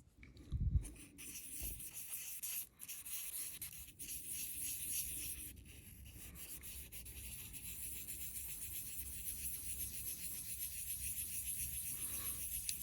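Steady dry rubbing and rasping of wet sanding paper on a Heuer Autavia 2446 plastic watch crystal, a close scratchy friction sound continuing without pause, with a brief bump near the start.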